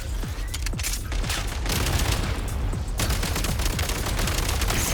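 Rapid gunfire in the video game Genshin Impact, dense overlapping shots and bursts that keep going loud and close, like a sustained fusillade.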